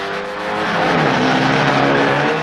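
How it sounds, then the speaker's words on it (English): Rally cars leave the start in groups of five at three-second intervals on a wet track, their engines revving loudly and swelling into a continuous, overlapping roar. "The cars start 5 at a time at 3-second intervals."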